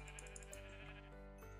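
Sheep bleating in Minecraft, a few short, wavering bleats close by, layered over steady in-game ambience with no talking.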